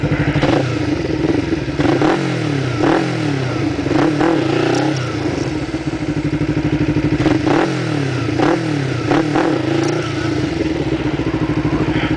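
A motorcycle engine revs repeatedly in rising and falling surges while the rider slips the clutch during wheelie practice, loud and close, with brief clattering thumps between pulls.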